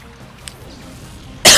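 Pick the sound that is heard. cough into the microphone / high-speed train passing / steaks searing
cough into the microphone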